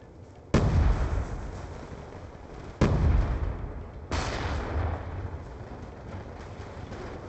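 Grenade blasts in Call of Duty: Black Ops 2, three loud booming explosions at irregular intervals, each a sharp broadband burst followed by a lingering rumbling decay.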